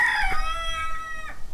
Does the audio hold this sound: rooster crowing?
yes